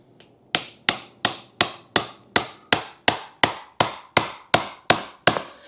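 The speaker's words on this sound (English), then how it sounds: "It'll actually compress in there as you hammer it in, and it will push the pilot bearing out." A hammer strikes steadily, about a dozen sharp evenly spaced blows, driving bread into a crankshaft bore to force out the pilot bearing during an LS3 and T56 swap into a Squarebody race truck; each hit rings briefly and decays.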